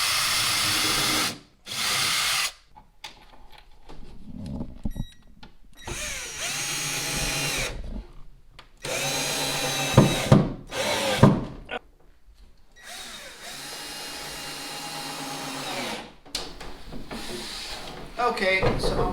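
A power drill drives screws into plywood floorboard panels of a small CLC Tenderly dinghy under construction, in repeated bursts of whirring with pauses and handling thumps between them, with speech in between.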